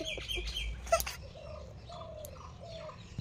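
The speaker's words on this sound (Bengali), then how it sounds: "আর এদিকে দেখো কত পাখি একসাথে কোলাহল করছে" Several birds, mynas among them, call near trees in the morning, with overlapping chirps, short whistled notes and a sharp squawk, moderately close over a low background hum.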